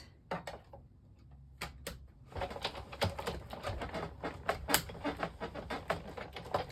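A manual die-cutting machine pressing a stencil die and plates through its rollers gives a close, steady grinding rumble with sharp clicks and clunks, after a few scattered handling taps at the start.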